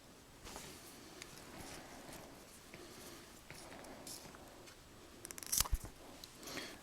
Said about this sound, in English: take your scissors and just cut those as close as you can